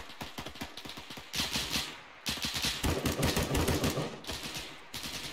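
Automatic gunfire from a weapon in a Middle East war video game, several loud, close bursts of rapid shots separated by short pauses.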